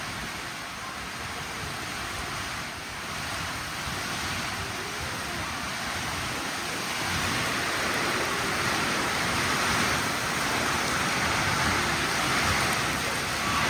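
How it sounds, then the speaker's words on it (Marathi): Heavy cloudburst rain in Lotewadi village pours steadily in a dense, roaring hiss, loud and continuous with no voices, swelling slightly toward the end. "बदा बदा बदा बदा बदा बदा पाऊस पडतोय बघा."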